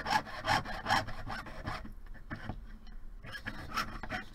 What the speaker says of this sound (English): when you're holding your sawing piece over your bench pin, you're going to put it over the V-slot